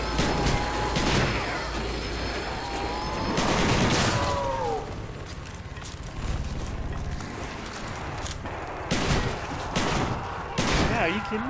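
Death Machine minigun firing in Call of Duty Black Ops Zombies on the Ascension map, loud bursts of rapid gunfire recurring through the clip amid busy game noise, with voices talking over it.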